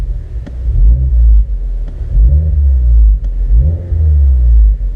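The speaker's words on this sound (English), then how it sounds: "I'm gonna go on the freeway now and you'll guys hear how it sounds when accelerating" Heard from the cabin, a 2016 Mazda 3 GT with a Spintech Super Pro Street 9000 dual-muffler exhaust accelerates hard in repeated pulls, its deep droning rumble rising in pitch with each surge before easing off between gear changes.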